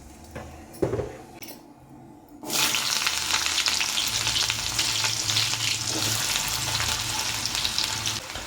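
Onions frying in a pan for a simple cashew dish. It opens quiet with a light knock, then a loud, steady sizzle bursts in and holds close and continuous for the rest.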